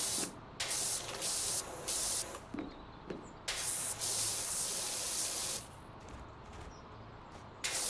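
Pressure washer spraying in the video game PowerWash Simulator 2, a loud steady hiss that cuts in and out in repeated bursts while grime is blasted off a sign and roof.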